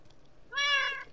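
A cat gives a single clear meow lasting about half a second, close and distinct against a quiet background.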